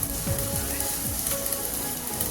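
An onion chammanthi mixture with spice powder sautés in a pan over low heat, giving a continuous crackling sizzle broken by a few short scraping strokes of a spatula, with no voices.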